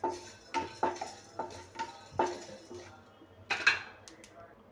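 Curry leaves and spices dry-roasting in a pan, with a series of crisp spoon knocks and scrapes against the metal at an uneven rhythm, fairly quiet and close.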